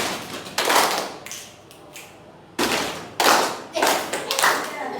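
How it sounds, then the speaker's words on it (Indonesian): A classroom group claps in short, sharp bursts during a rhythm exercise in a school lesson, several separate rounds of hand clapping with quieter gaps between them. "dan tepuk tangan 2 kali"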